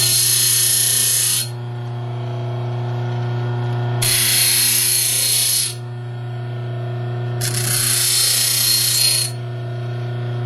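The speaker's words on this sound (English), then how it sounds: "to make a simple hook, we can keep it all in the grinder" A bench grinder shapes a hook lock pick from metal strip, with three loud hissing passes against the work. A steady motor hum runs underneath.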